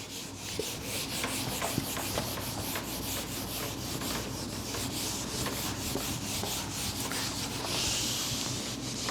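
Steady rubbing of a board eraser wiping writing off a classroom board, a continuous scratchy swishing with quick repeated strokes throughout, close and fairly loud with no talking.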